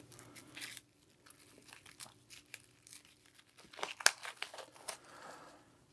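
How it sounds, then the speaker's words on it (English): Wrapper of a pack of trading cards being torn open and crinkled, quiet and close, in irregular crackling bursts with brief pauses and a sharper tear near the middle. "Let's open this one and just see what kind of cards we'll find."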